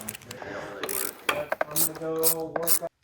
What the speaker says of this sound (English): go ahead and pull those off first with the 10 millimeter ratchet and end wrench